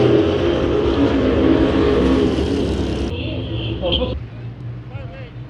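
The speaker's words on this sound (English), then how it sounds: "Heat race number 2 of the IMCA stock cars." IMCA stock car engines roar loudly and continuously in a heat race at Bakersfield Speedway, revving as cars pass, with the noise dropping off partway through; a voice talks over the engines.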